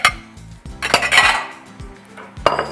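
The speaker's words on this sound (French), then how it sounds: "Je vais mélanger ça dans un bol." Buckwheat crepe batter being mixed in a bowl, with a utensil clinking and scraping against the sides in quick irregular strokes, close and fairly loud, no voices.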